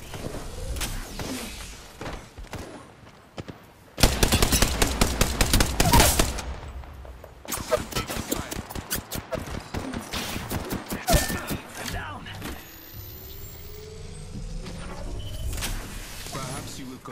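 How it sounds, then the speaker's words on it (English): Gunfire in the video game Apex Legends during a ranked battle royale match, with loud bursts of rapid automatic shots, mixed with in-game voice lines and effects. "They're shooting at me."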